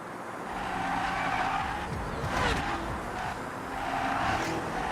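Tires screech as a car drifts in the racing game Forza Horizon: a sustained, loud squeal that rises and falls in waves over a steady engine roar, with no talking.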